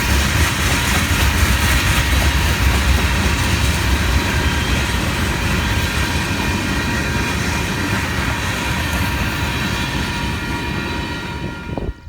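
A Union Pacific coal train led by SD70AH T4 locomotives, with a BNSF ES44C4 in the consist, roars past loud and close in a continuous rumble and wheel clatter for about twelve seconds.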